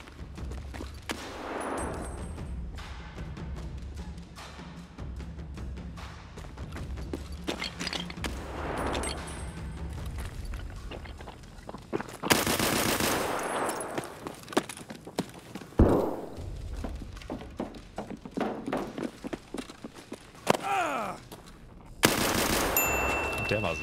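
Gunfire in the shooter Escape from Tarkov comes as scattered single shots and short bursts across a tense stretch, some close and loud, others softer, over footsteps and ambient noise with no talking.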